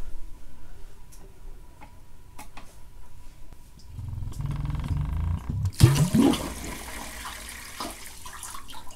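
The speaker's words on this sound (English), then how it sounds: "You saw this gray plunger moved out of the way and we got water flowing." Water rushes through a tank line once the gray plunger of a check valve moves aside, a low surge swelling midway and then turning into a brighter splashing flow after quiet ticking at the start.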